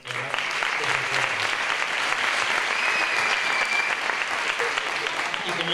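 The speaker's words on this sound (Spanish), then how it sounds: "Un fuerte aplauso para ellas dos" At a sports gala, an audience gives sustained, even applause for two gymnasts, one of them an Olympian, with the clapping loud and continuous and voices faintly audible beneath it.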